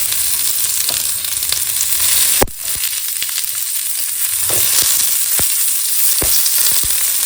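Chopped onions frying in hot oil make a loud, continuous sizzle, with a sharp clatter near the middle and scattered pops and crackles throughout.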